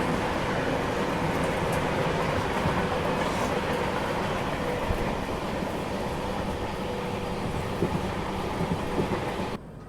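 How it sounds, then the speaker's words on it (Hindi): The Ahmedabad Gorakhpur Express rolls past on a crossing track near Bhopal's outer approach at Nishatpura cabin, a steady, continuous rumble of wheels and carriages lasting throughout with no voices. "यहाँ पे देखिए अहमदाबाद गोरखपुर एक्सप्रेस अपनी क्रॉसिंग हो रही है।"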